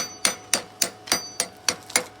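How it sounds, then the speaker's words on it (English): A slag hammer chips slag off a fresh weld on a log splitter: eight sharp, evenly spaced metallic strikes, close and alone, each ringing briefly. "Give me the hammer. I'll chip it while I'm at it too."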